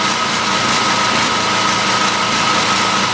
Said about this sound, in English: As you can hear it, it's not just idling smoothly.